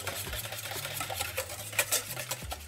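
Eggs and melted butter are stirred in a bowl with a steady, rhythmic scraping and swishing that sounds close and moderately quiet, with no talking.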